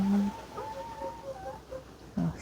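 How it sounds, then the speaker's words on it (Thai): Chickens cluck softly in the background on a rainy day, with scattered short calls over a quiet outdoor hum. "เสียงไก่เรามัน"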